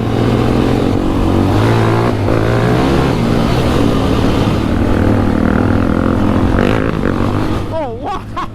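A Polaris Outlaw 525 IRS ATV engine drones steadily and loudly up close, its pitch wavering with throttle changes, and the sound dips slightly near the end.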